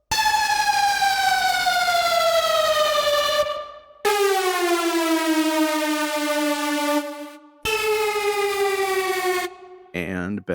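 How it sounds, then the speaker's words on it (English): Three loud synthesized siren tones in a row, each wailing steadily and bending downward in pitch, with short silent gaps between them. "Sirens Bender Downer."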